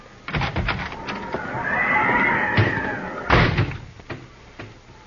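A horse whinnies loudly and close, a long wavering neigh with a sharp thump or door knock before it and another after it.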